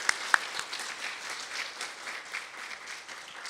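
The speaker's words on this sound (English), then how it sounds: "I think she deserves a round of applause" An audience claps for a female instructor at a leadership talk: fairly quiet, steady applause from a seated group, with a couple of sharper individual claps near the start.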